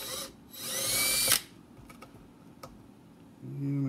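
A handheld power drill bores a small starter hole for a snug-fitting part in a DIY protein skimmer build, one short whining burst close up, followed by small taps and handling clicks.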